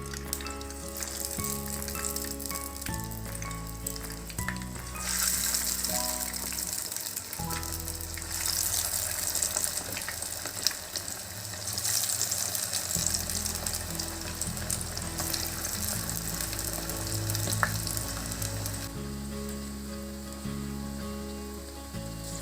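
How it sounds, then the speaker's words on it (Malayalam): Chicken pieces for a crispy chicken kebab drop into hot oil with curry leaves, giving a loud, steady sizzle that runs for the whole stretch without any talking. "ഇനി നമുക്ക് ഓരോ കഷ്ണം ചിക്കന് വറക്കാൻ വേണ്ടിയിട്ട് ഇടാം കേട്ടോ"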